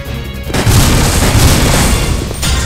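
An enemy blows up in the video game Resident Evil Survivor 2, a loud, rumbling boom that sets in suddenly and sustains for about two seconds before dropping off, with no talk over it.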